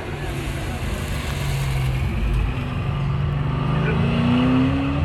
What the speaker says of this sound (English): Have a listen to this car as it goes away.